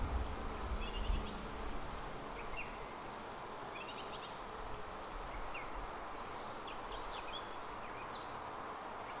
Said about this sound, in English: Lots and lots and lots of baby bees.